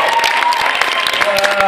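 A crowd applauds a Brussels hip-hop dance group at a dance showcase, steady dense clapping filling the whole moment at close range.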